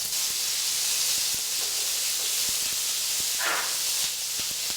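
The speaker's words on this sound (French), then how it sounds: "on va pouvoir commencer à poêler les Saint-Jacques" Scallops sizzle in a hot pan, a steady bright hiss that holds throughout, with a louder spitting flare midway and faint clicks underneath.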